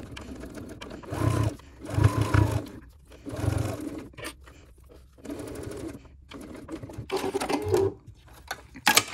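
Home sewing machine with a regular presser foot stitching the side seam of a fabric crossbody bag, running in several short bursts with brief pauses between, close and fairly loud, with no talking.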